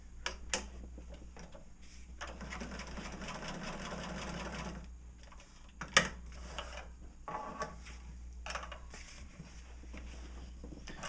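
A sewing machine runs a test seam to check thread tension with red thread, its needle ticking in a steady close whir that pauses and restarts, with a few light clicks and no talk.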